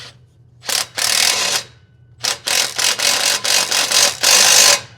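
Socket wrench ratcheting on a Land Rover Series III V8 exhaust job, close and loud, in several quick clicking bursts separated by brief pauses.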